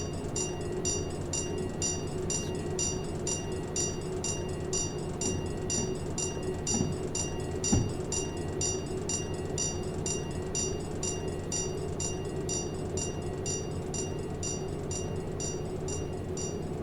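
A long train rolls steadily in the Derail Valley video game: a constant rumbling drone with high whine and rhythmic ticking, a single clank near the middle, no talk.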